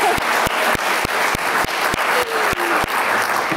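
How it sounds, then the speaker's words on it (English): An audience applauds at a university Global Health Day event honoring an alumnus, a dense, steady wash of clapping with sharp periodic hits from nearby hands running through the whole stretch. "Yes, we can applaud."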